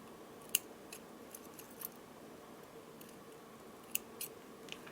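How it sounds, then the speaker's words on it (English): Scissors snip necklace thread above the knot in a quiet indoor setting, with a few faint, brief clicking cuts scattered over a soft background hiss and no talk. "Now let's cut the thread"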